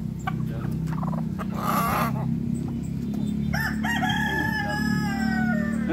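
Mexican rooster breed and other chickens kept at a home yard, several crows and clucks ringing out over a steady low background hum, moderately close, with no talk.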